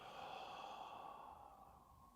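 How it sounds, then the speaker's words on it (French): A single long, steady exhale through the mouth during a breathing exercise, soft and breathy, close to the listener and fading slightly toward the end. "Soufflez par la bouche."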